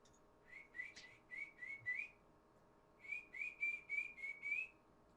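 A person whistles a short tune of rising chirping notes in two phrases, about five notes each with a pause between, fairly faint over a quiet background.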